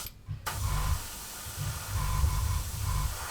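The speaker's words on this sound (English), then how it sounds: "I'm going to spray it the same way I normally would" Thinned metallic paint is sprayed from an airbrush onto test strips, a continuous close hiss that starts abruptly and holds steady, with a low pulsing rumble underneath.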